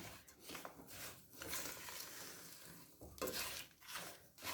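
Dry fruits and sugar are stirred in a pan for panjiri, giving close, bright scraping and rustling strokes in uneven bursts with a soft sizzle, no voices.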